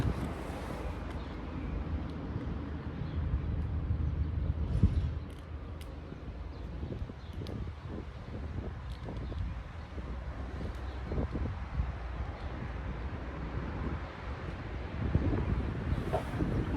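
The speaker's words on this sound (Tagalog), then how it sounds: "medyo mahangin ngayon." Steady outdoor wind rumbles and buffets the microphone at a resting spot, a constant low roar with a few brief gusts and faint rustles, and no voice heard.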